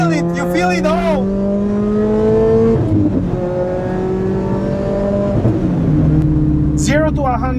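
A Lotus Exige S sports car of about 250 horsepower revs and accelerates, the engine note climbing steadily through gears, loud and close, with a brief shift dip midway and a voice speaking over it at the start and end.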